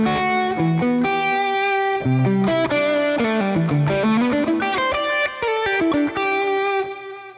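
A Donner Hush X Pro electric guitar with a distorted tone and plate reverb plays a melodic run of sustained single notes and bends, loud and close, with tails ringing out at the end.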